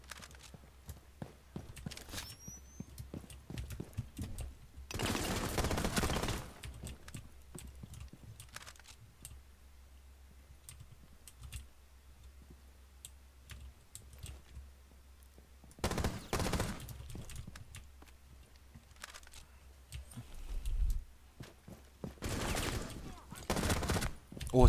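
Rainbow Six Siege gunfire comes in several short, loud automatic bursts separated by quieter stretches of light clicks and faint game sounds.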